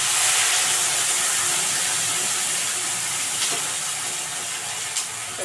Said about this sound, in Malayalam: ഇതിൽ കുറച്ച് തിളച്ച വെള്ളം ഒഴിക്കാം